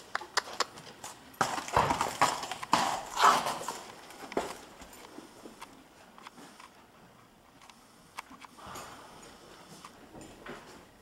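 A grey gelding walks nearby, its hooves clip-clopping irregularly, louder and clustered early on, then fading into scattered lighter steps with a few sharp knocks near the end.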